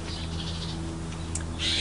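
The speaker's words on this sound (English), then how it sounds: "Seems like the birds are a little bit interested" Birds call in the background outdoors, a few faint chirps and short calls scattered over a steady low hum.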